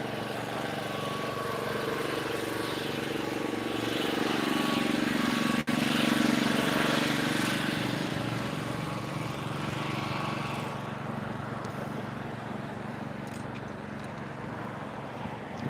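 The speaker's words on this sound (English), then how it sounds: "I got to pass by a two-stroke motor." A two-stroke motor passes by somewhere in the southern tip of Florida, a steady droning buzz that swells to a peak midway and then slowly fades as it moves off, with no talk.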